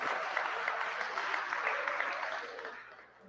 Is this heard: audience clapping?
yes